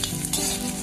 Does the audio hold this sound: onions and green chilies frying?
yes